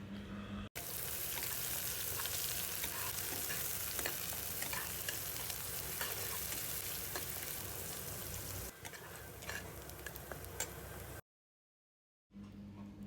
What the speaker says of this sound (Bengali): প্রথমে আমি পেঁয়াজগুলো ভেজে নেব